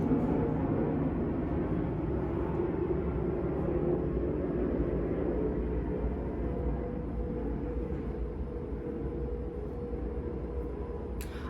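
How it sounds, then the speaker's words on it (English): An airplane passes overhead as a faint, steady, low roar that gradually fades over several seconds, heard alone indoors with no talk. "I'm sorry, there's an airplane."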